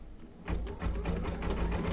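An embroidery machine stitches a zigzag on an in-the-hoop cake shop project, giving a close, steady run of rapid mechanical needle strokes after a brief quiet start.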